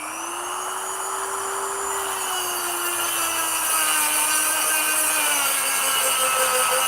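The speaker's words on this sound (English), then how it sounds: "so we've got our electric rotary cutter. Sparks are going to fly" An electric rotary cutter grinds through metal in a steady, loud, continuous whine that holds for the whole stretch with a slowly falling tone and no pauses.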